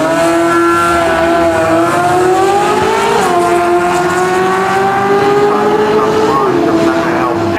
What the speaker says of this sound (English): that Y pipe sound, that's what I'm after